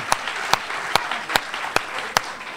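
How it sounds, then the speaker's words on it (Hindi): At a Hindi comic poetry gathering in Mumbai, six slow, evenly spaced claps ring out over a faint room background, each sharp and distinct rather than a full burst of applause. "पूरा सदन जोरदार ताली ठोक दीजिएगा"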